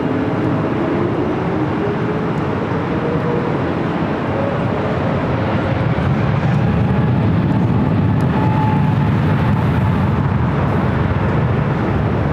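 An airliner takes off from runway 24 left at LAX, a loud, broad jet roar that stays steady and sustained throughout, heard from a distance across the airfield.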